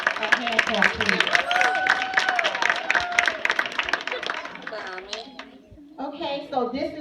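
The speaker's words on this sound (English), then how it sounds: "Let's give all of our students a hand clap" An audience at a school awards day claps for students, a dense burst of applause that fades out over several seconds while people talk over and after it.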